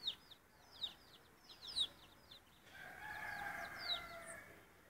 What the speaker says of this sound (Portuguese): Tem um galo e umas galinhas pra lá.